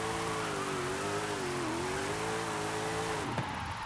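A police drift car in Forza Horizon 5 on a mountain pass: a steady engine note rises and falls continuously with faint tire squeal, then cuts off abruptly near the end.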